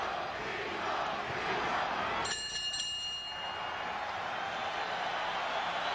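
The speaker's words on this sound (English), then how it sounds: "Crowd chanting for Trinidad." Boxing arena crowd at a Felix Trinidad fight, a loud steady roar of many voices chanting for the fighter, with a brief bright ringing tone cutting through midway.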